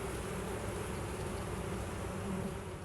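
Honey bees crowd a hive frame of nurse bees over open brood, their steady, dense buzzing filling the space close by without a pause and with no voices.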